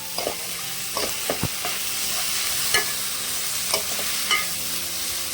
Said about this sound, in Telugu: బెండకాయ వేసేసానండి. తాలింపులో కలుపుతున్నా.